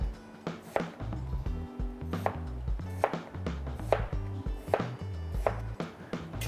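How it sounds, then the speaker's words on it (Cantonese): Winter melon being sliced thinly with a knife on a cutting board, a quick steady series of close, solid chops repeating evenly throughout, with no talking. "之後咧就切薄片"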